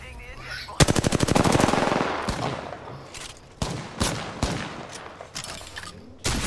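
Automatic weapon fire from an Apex Legends match: a fast rattling burst near the start, followed by scattered single shots and short bursts at varying distances, loud and close.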